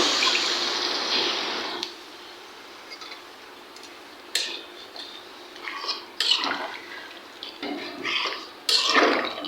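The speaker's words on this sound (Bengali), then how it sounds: "এখন আমি তরকারিতে এই যে জল দিয়ে দেবো" Water is poured into a simmering goat meat curry in a home kitchen, a soft steady pour at first followed by scattered clinks and stirring splashes, close and moderately loud.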